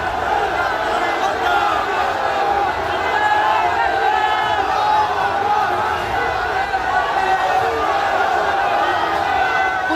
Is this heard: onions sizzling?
no